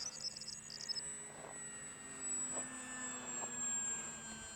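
A Ki-61 Hien model aircraft flies on its maiden flight, its engine a thin, steady whine heard faint and at a distance in open air.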